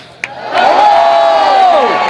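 A crowd at a Blendtec ribbon cutting cheers and whoops loudly after a sharp clap, a sustained roar of voices lasting about a second and a half before fading.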